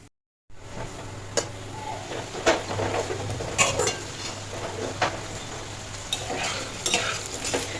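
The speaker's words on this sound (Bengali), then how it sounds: "এরকম ছোট ছোট করে বড়াগুলো ভাজবো" Small fritters (bora) fry in a pan with a continuous close sizzle and occasional utensil taps and scrapes, starting abruptly after a brief silence, with no talk.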